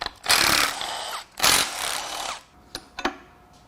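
Power tool buzzing in two loud bursts while removing the oil pickup from a 2015 Ram 2500 6.4L Hemi engine during teardown, followed by a couple of short clicks and clanks.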